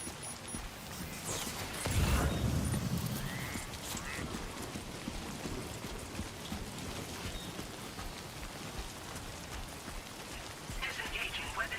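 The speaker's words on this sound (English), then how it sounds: "Oh joy, it's raining." Steady rain in the video game Death Stranding 2, a dense hiss of drops pattering on surfaces throughout, with a brief louder low rumble early on and faint game voices over it.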